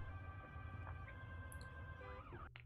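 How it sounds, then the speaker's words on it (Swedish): Ambulance siren with emergency lights on, faint and distant, its steady tones sliding under a low rumbling background over a few seconds. "Ambulansen har blåljus och siren på sig, påslaget."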